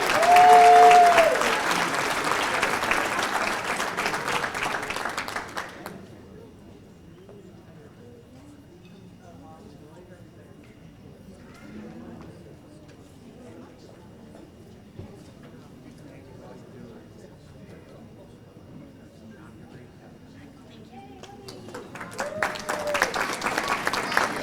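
At the 2019 MDUSBC adult banquet, the audience breaks into loud applause that cuts off after a few seconds, leaving a quiet room with a voice speaking at a distance, before a second burst of clapping rises at the end.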